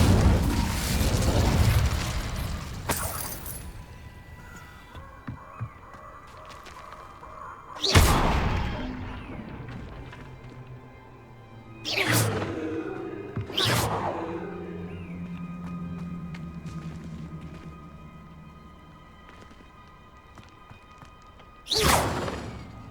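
Incendio fire spell cast in the Hogwarts Legacy video game, a few whooshing bursts and booms spaced out over a low ambient backdrop, with no talking.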